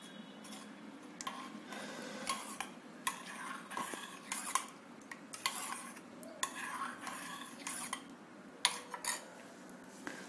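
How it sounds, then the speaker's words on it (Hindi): A spoon stirs cauliflower florets with cornflour starch in a bowl for gobhi Manchurian, giving repeated scraping clinks and taps at close range, irregular and steady, with no talking. "अब इसको हम मिलाएंगे। इसको हम मिलाएंगे अच्छे से।"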